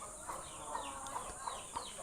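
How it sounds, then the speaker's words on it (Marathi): A broody country hen sitting on eggs on a Konkan desi poultry farm gives five soft, evenly spaced clucks over a faint, quiet background, with no one speaking. "ही कोंबडी बसली आहे"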